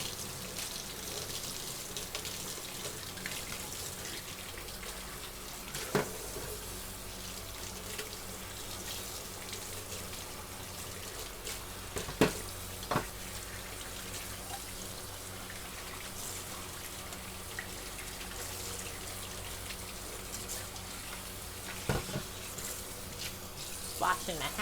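Tap water runs steadily from a faucet into a kitchen sink while mixer handles are rinsed, a continuous close splashing hiss with occasional brief clinks over the flow.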